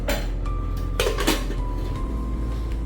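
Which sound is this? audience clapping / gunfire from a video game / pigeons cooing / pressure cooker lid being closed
pressure cooker lid being closed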